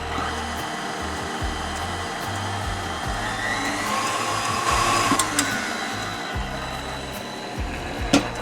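An electric hand mixer whirs steadily through cake batter made with flour and baking powder in a home kitchen, a continuous motor drone lasting throughout with a brief clatter near the end.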